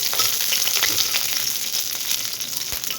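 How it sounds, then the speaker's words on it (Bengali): Dried chilies, garlic cloves and green chilies fry in hot oil, giving a steady, loud, close sizzle with crackling pops throughout. "তেল গরম হয়ে আসলে দিয়ে দিলাম শুকনা মরিচ, কয়েকটা রসুন, কয়েকটা কাঁচামরিচ,"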